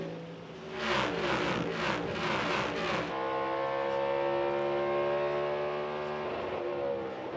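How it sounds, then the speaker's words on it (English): A NASCAR Cup Series race car at Watkins Glen International screams at high revs and bounces off the rev limiter, a few stuttering pulses followed by a sustained, harmonically rich engine whine held close and loud. "Hear that rev limiter right there,"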